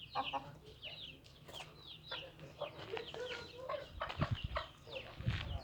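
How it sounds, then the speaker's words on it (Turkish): Several chickens, including Indian roosters and hens, cluck and chatter close by in a steady, busy stream, with a few sharper calls rising above the flock. "Hint horozumuz, Hint tavuğumuz var."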